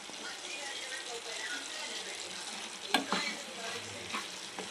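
A ladle stirs soft cooked tomato curry with drumsticks in a pan, giving a continuous low sizzle with wet scraping and a few sharper clinks of metal against the pan, close and moderately quiet.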